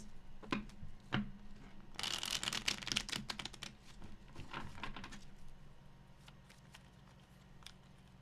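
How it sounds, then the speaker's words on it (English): Tarot cards being shuffled by hand, a burst of dense riffling and slapping for a few seconds, then scattered soft card taps and shuffles, close and fairly quiet with no talking. "Last shuffle for Leos."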